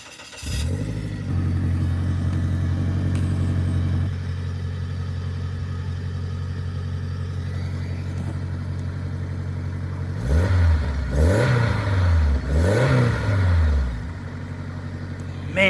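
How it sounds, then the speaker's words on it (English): A Honda RSX or EP3 Civic with an aftermarket muffler idles with a steady low drone, then gets a couple of quick revs near the end, each rising and falling in throaty bursts close to the exhaust. "Just do a couple little revs."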